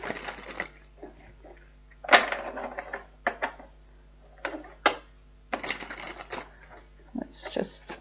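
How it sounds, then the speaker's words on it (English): A tarot deck being shuffled indoors, its cards giving repeated short papery riffles and crisp flutters in bursts with pauses between. "Let's just give it one more shuffle, Gemini, and then we should be ready."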